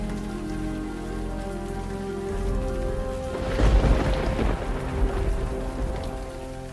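Heavy rain pours steadily while a rumble of thunder swells in the middle, under a low droning background tone.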